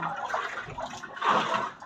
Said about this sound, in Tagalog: So, dadagdagan ko lang ang tubig doon sa washing machine namin.